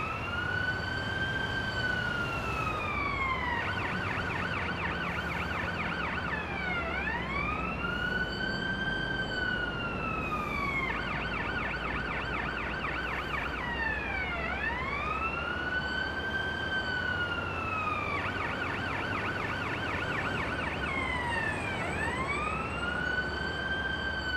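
An ambulance siren in the game Ambulance Life: A Paramedic Simulator repeatedly alternates between long rising-and-falling wails and rapid warbling bursts, steady and prominent over a low vehicle hum on a bridge.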